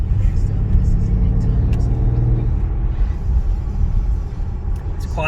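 A black all-wheel-drive 2014 Mercedes CLS 550 on the road, its engine a low, even rumble with a faint hum and a few light clicks, while a person talks over the drive.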